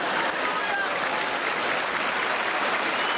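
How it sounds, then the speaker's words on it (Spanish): Steady applause from a church congregation at an evening worship service, sustained and fairly loud throughout, with voices mixed into the clapping. "Mire cómo aplauden."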